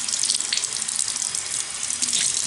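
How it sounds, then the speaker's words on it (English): A bathroom tap runs steadily into a sink while hands are wetted under the stream, giving a close, continuous splashing hiss. "Start by running water"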